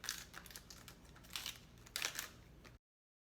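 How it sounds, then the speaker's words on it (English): Knife cutting peeled leafy cabbage leaves on a board, heard as soft crisp crunching slices in several short bursts, quiet and close with no talk. "we're going to cut those with a knife"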